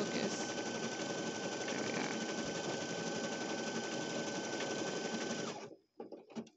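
Baby Lock Flare embroidery machine stitching out a letter, a loud steady mechanical whir with rapid needle chatter running continuously for several seconds before stopping abruptly, followed by faint clicks.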